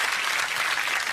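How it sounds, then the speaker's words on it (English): Studio audience on a 2009 TV chat show breaks into steady, dense applause with some cheering, a continuous close wash of clapping throughout. "Give it a cheer."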